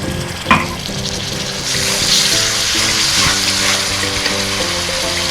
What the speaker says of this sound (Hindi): अब इसमें हम थोड़ा सा पानी ऐड करते हैं